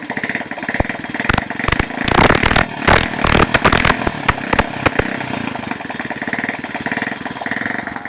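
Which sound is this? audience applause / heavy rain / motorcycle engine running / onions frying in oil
motorcycle engine running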